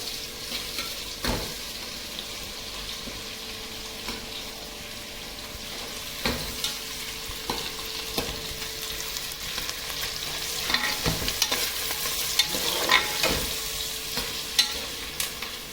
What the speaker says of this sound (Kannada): ಆನಿಯನ್ಸ್ ಬ್ರೌನ್ ಆಗೋವರೆಗೂ ಇದನ್ನು ಆಡಿಸ್ತಿರ್ಬೇಕು.